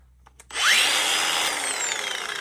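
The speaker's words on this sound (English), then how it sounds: "And I use this handy dandy Makita." A Makita power tool starts up with a sharp whine and works on the bolts of a truck bed, running loud and close for about two seconds.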